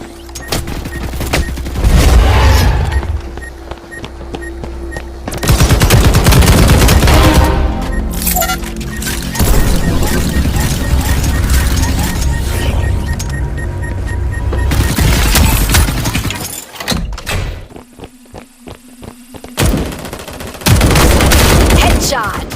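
Rapid bursts of gunfire from the shooter game Hyper Front, with loud, dense volleys of shots and booms, short pauses between them, and a few brief gaps near the end before the firing resumes.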